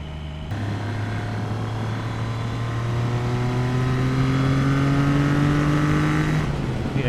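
An old Triumph motorcycle engine pulls hard under acceleration while being ridden, its rising, steady drone held loud and close throughout with no talk over it.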